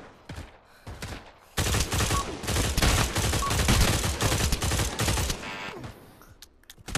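Rapid bursts of gunfire in the Pavlov VR shooter, loud and dense volleys of shots rolling almost continuously for several seconds after a quieter opening.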